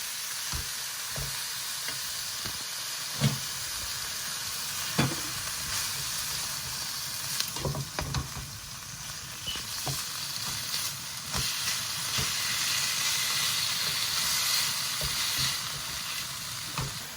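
Minced meat frying in a pan, a steady close sizzle with occasional stirring clicks and scrapes, continuous with no voices.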